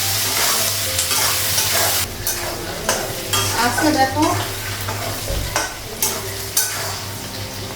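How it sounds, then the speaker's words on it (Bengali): Potatoes and onions fry in a pan, a steady broadband sizzle with intermittent stirring scrapes and clatter, close and fairly loud, a brief voice speaking near the start. "আলুটা পেঁয়াজটা ভেজে নেব, তারপর ঝিঙেটা লাগাবো।"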